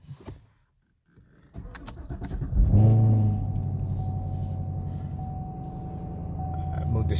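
Chevrolet Camaro SS cold start after sitting two days: a brief starter whir, then the engine catches with a loud rising bark and settles into a steady rumbling idle close by.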